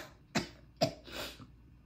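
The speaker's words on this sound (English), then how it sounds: "coughs are coming on" Two short, sharp coughs close to the microphone, followed by a softer throaty exhale, in an otherwise quiet room.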